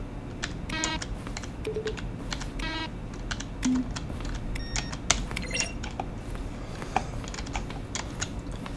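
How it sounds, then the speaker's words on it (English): Rapid keyboard clicks mixed with short synthesized beeps and chimes, the button sounds in the video game The Stanley Parable, sounding in an uneven sequence over a soft background hum. "Each sound is a mix of a keyboard stroke and a synthesized tone."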